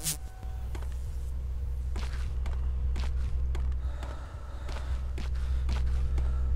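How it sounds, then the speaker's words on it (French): Footsteps in a horror video game set in a gloomy prison, a steady series of distinct close steps over a low droning ambience, with no voices. "Il y a des bruits de pas autour de moi, je vous jure."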